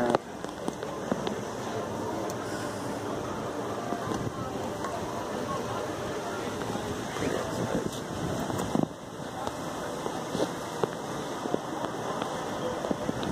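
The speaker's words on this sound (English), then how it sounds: "It's pretty nice and breezy, man." Breezy wind at a hotel during the first day of Paradise Con, a steady rushing roar buffeting the microphone for the whole stretch, with occasional bumps and clatter.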